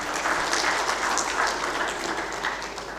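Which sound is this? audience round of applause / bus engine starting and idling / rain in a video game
audience round of applause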